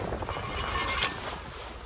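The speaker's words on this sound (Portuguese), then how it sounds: "abrindo a vela da frente" Steady rushing wind and water noise as the front sail of a sailboat is opened at sea, a continuous wash with a slightly brighter swell in the middle and no talk.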